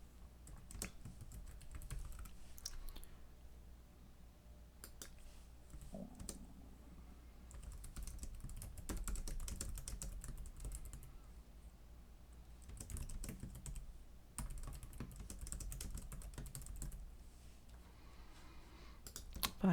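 Rapid typing on a computer keyboard, with dense bursts of clicks and short pauses, close and steady throughout with no voices.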